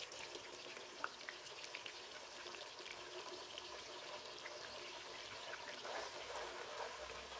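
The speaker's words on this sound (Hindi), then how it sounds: "प्याज हमारा फ्राई हो चुका है" Ground onion frying in a pan for chicken karahi, a soft, continuous close sizzle with a faint crackle throughout, quiet and steady, with no talking.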